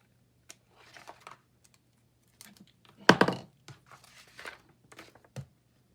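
Scissors cutting away excess paper for a collage, with a few light snips and rustles and one louder crinkling cut near the middle, close and otherwise quiet.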